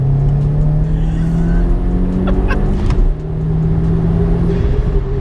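Silver 300 bhp Seat Leon sleeper pulling hard in third gear, a loud steady engine drone close up with a brief dip around a shift, no talking.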